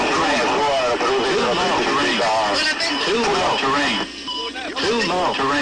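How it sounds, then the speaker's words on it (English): Cockpit voice recording from Aeroperu Flight 603, with warning alarms sounding over loud, tense voices of the crew and a constant noisy cockpit background. "You can hear all the alarms in the backgrounds and the panic in the pilot's voice."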